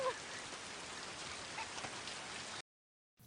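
Heavy rain pours steadily as a dense, even hiss of drops on surfaces, continuous and fairly close, then cuts abruptly to silence near the end.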